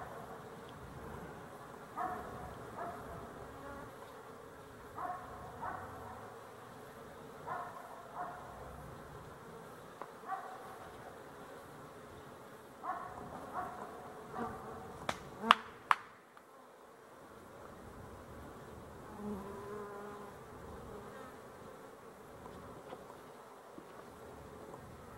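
Honey bees buzzing softly around a hive, a faint continuous drone with a few individual bees passing nearby, plus a couple of sharp clicks partway through.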